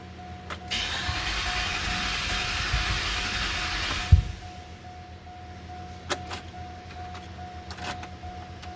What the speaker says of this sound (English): It almost sounds like it's firing at the wrong time or something.